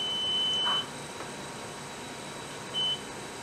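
During a test of a reconditioned fire detector head, an electronic alarm beeps in two short, clear tones, one near the start and one toward the end, over a steady background hum.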